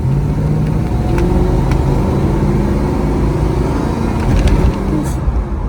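A 1968 Pontiac Firebird with a swapped 403 engine pulls away from a stop in second gear, a loud steady low exhaust drone heard from inside the car with a slight rise as it accelerates.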